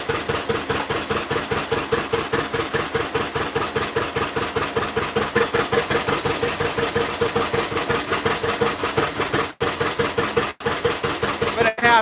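A John Deere Model A tractor, newly started after eight years idle, chugs with a loud, rhythmic two-cylinder putt-putt that repeats evenly and close by, with a couple of brief stumbles near the end.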